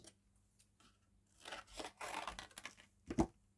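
Paper craft pieces for a sweet cart project are cut out by hand, giving soft crinkling and snipping rustles that build into a busy stretch of close paper noise, ending in a brief louder crunch.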